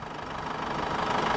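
A 2016 Vauxhall Antara 2.2 CDTI Diamond with a 2.2-litre four-cylinder turbo diesel idles close by with a steady, slightly knocking diesel clatter that grows a little louder toward the end.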